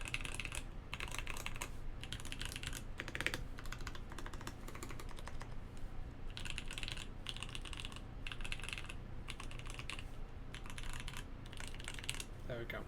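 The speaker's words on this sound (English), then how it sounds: "if someone wants to hear a bit more typing, I'm not going to type properly." Typing on a custom-built mechanical keyboard: bursts of snappy, clacky keystrokes in rapid clusters with short pauses between, close and steady throughout, over a low background hum.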